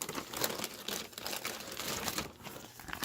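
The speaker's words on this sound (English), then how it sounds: "resealable bag." A plastic resealable bag from a US First Strike Ration MRE crinkles and rustles close to the microphone in quick, continuous handling, quiet and with no voices.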